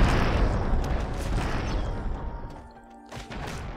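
A loud crashing boom as a cannon is destroyed in Settlers: Heritage of Kings fades into rumbling debris, followed by a few smaller mechanical clanks.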